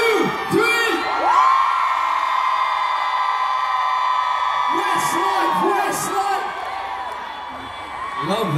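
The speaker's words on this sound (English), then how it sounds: "Everybody on the count of three, we want you to scream with your hands high." A concert crowd screams with hands high, a sustained loud roar of whoops and cheers with a held sung or shouted tone above it, and voices chanting at the start and end.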